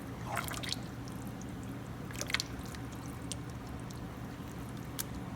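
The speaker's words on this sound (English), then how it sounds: "It's starting to boil." A pot of salted water on the stove coming up to a boil, giving steady low bubbling with scattered small drips and pops, alone and fairly quiet.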